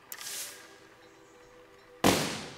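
Cannons mounted on a player-built monster truck in the game Besiege fire twice, a short sharp blast followed by a louder, harsher boom about two seconds later, with a faint hum between.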